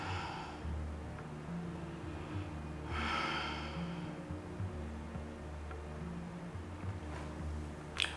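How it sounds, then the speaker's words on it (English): A slow exhale during a Kundalini yoga breathing exercise, a soft breathy rush rising around the middle and easing away, close and quiet over a low room hum, with no talk. "Exhale, relax."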